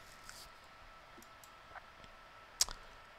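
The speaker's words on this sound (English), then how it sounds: "Clicking on finish sketch button" A single crisp mouse click in Autodesk Inventor, selecting the finish sketch button, stands out sharply and briefly against a faint, steady background hiss.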